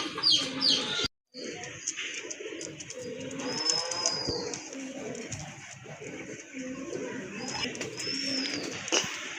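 Big Payra pigeons cooing close by, repeated soft throaty coos over a busy background with other bird calls, broken by a brief silent cut.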